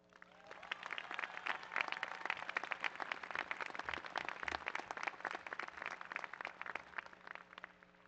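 The audience and academic staff at a university commencement ceremony applaud, a sustained dense roll of many hands clapping that swells in quickly and holds steady, sounding somewhat distant and reverberant in a large hall.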